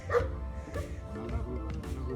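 A small dog yips and barks a few times in quick, irregular bursts, fairly close, with faint background sound around it.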